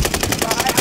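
Rapid automatic gunfire from a high-recoil gun in Call of Duty Warzone, a loud close burst of evenly spaced shots lasting under a second.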